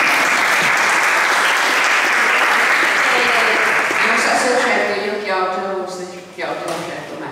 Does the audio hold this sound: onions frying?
no